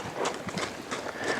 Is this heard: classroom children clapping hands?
no